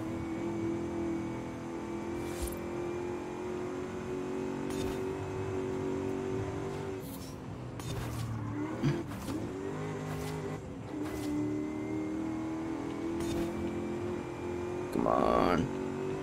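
A V8-like car engine revs hard in Forza Horizon 5, holding a steady droning pitch through a race with brief shifts and a swell near the end, while someone talks over it.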